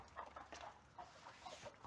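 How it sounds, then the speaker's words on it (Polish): Hens cluck softly in short, scattered calls, fairly quiet, with a sharp knock at the very end. "Jak codziennie rano wypuszczam kury."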